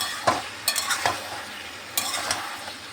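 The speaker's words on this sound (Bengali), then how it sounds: "ভালোভাবে মিশিয়ে নিচ্ছি" Boiled giant taro root and potato being stirred with ground coriander in a hot pan, a spoon scraping in several separate strokes over a soft, steady sizzle of frying.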